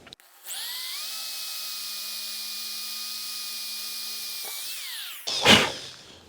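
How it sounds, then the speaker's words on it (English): A power drill bores through a thick piece of metal for a welding cart, a steady high whine holding for about four seconds, winding down, then a brief rough burst as it breaks through. "Let's see how easy it is to drill through this thick piece of metal."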